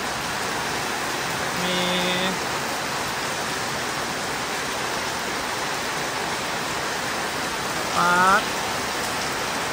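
Heavy rain pours down steadily as a constant dense hiss that covers the whole stretch, with brief snatches of speech and other voices cutting in over it.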